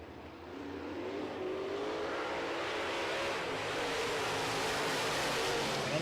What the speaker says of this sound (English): And we are back to racing here at the Speedway.